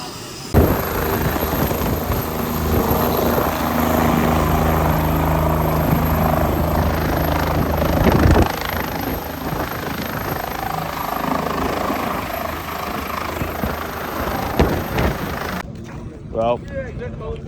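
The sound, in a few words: helicopter at a car show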